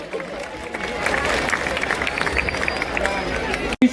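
A crowd applauds for actress Riva Raj at a fan gathering for the Gujarati film Lalo in Mehsana, a sustained wash of clapping and cheering with voices mixed in, ending abruptly.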